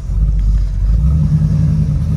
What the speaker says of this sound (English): we'll go drive the Malibu around a little bit